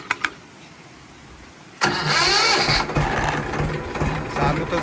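A Powertrac diesel tractor engine cranks and catches after two brief clicks, then runs loudly and roughly with a steady low throb while hooked to a loaded harrow.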